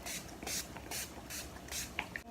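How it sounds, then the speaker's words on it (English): Five quick hissing sprays from an Urban Decay Day Slick setting spray pump bottle, evenly spaced and close, followed by a couple of small clicks. "I'm gonna take my Urban Decay Day Slick Setting Spray"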